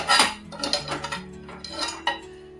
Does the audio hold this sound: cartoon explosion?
no